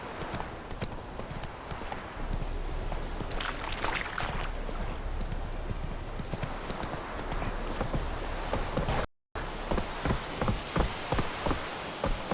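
A horse gallops in The Witcher 3 video game, rhythmic hoofbeats pounding close and loud over rain-like background ambience, with a brief dropout partway through.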